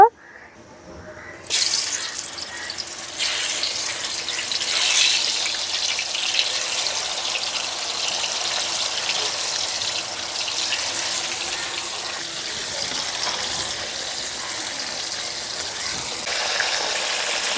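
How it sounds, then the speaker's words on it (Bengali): Hilsa fish pieces going into hot oil in a rural kitchen: after a quiet moment a sudden loud hissing sizzle bursts up and then carries on, steady and close, for a long stretch. "তেলটা গরম হয়ে গেছে, এখন মাছগুলো তেলের মধ্যে ছেড়ে ভেজে নেব"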